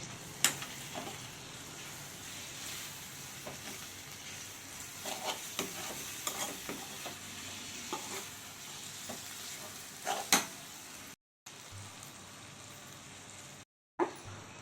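Ginger garlic paste is stirred into an eggplant and tomato curry frying in a pan, with a quiet continuous sizzle and scattered spatula scrapes and taps, fairly faint and with no talk.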